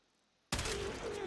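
A single sharp gunshot from a video game weapon, a Primed Chamber sniper in weapon testing, cracks loud after near-silence and leaves a sustained ringing tail.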